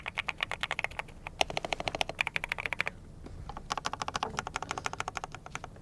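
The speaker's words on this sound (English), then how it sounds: "So if you guys remember, this was the sound of the TKL." Rapid, crisp clacking of a GK600 TKL mechanical keyboard in quick bursts, with a short pause in the middle, close and fairly loud.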